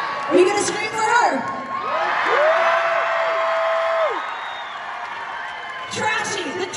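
An audience at a live Katy Perry pop show screams, whoops and cheers in a loud rolling swell, with piercing high shrieks rising over the roar before it fades and returns.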